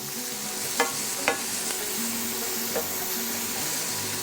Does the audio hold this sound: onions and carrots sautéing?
yes